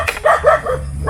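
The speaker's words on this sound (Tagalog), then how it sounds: "Ibang aso yan." A dog barks several times in quick succession, close and loud, with short yipping calls in a rural outdoor setting.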